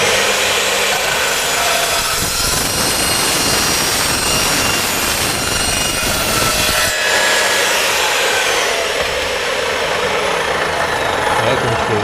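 A Bosch GCD 12 JL metal cut-off saw cuts through metal stock, a loud, continuous harsh grinding roar holding steady for the whole stretch with a brief shift in tone midway.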